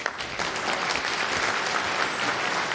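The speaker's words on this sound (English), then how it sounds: "so a round of applause for him." A conference room audience at a developer talk applauds the next speaker, a full, steady wash of clapping that holds evenly throughout.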